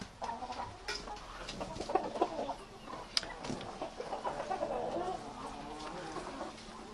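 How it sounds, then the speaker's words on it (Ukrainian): Hens cluck and murmur softly nearby in an autumn village yard in Ukraine that also holds turkeys, with a few sharp bird calls and quiet rustling throughout. "А це нагла вредна курочка, яка тікає постійно з двору разом з індиками."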